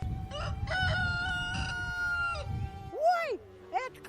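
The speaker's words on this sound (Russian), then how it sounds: "это клювачий петух" A rooster in a rural Bashkir village crows loudly and close by with a long drawn-out call, followed by shorter rising cries and some clucking from fowl nearby.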